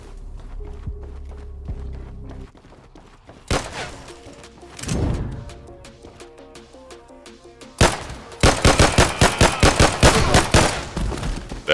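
Gunfire in the early-access video game Elementite: isolated loud shots early on, then a dense rapid burst of automatic fire near the end, with quieter in-game footsteps and ambience between.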